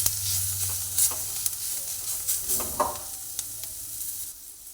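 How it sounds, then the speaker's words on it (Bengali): Onion and garlic fry in a pan with turmeric and Kashmiri chili powder, making a close, steady sizzle broken by several stirring scrapes; the sound fades slightly toward the end. "দুটোই দিয়ে ভালোভাবে পেঁয়াজ আর রসুনটাকে ভেজে নিচ্ছি"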